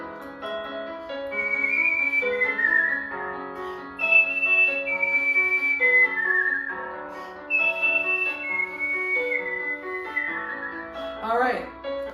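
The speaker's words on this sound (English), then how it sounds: "Wait a minute, I thought I was supposed to be whistling." A person whistles a melody in clear, sustained tones with short pauses between phrases, close and fairly soft, with no talking.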